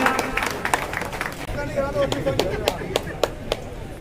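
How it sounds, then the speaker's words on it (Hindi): Guests at an inaugural ceremony for a military canteen receive a burst of applause, scattered claps from a crowd with sharper individual claps toward the end, moderately close amid murmuring voices. "तालियां"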